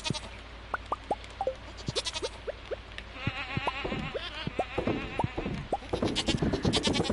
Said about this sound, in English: All the goats!